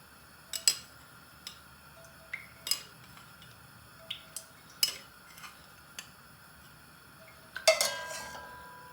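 Big spoon knocking in a cast iron pot during Bangladeshi okra chicken curry cooking: a series of sharp, separate metallic clinks and taps spaced about a second apart, ending in a louder clatter, with no talk.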